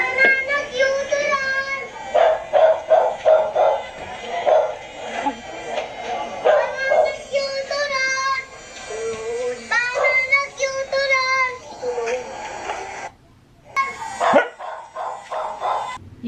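A dog barks repeatedly in short, close bursts mixed with high yips and whimpering whines, continuing for several seconds before a brief lull and a final few barks.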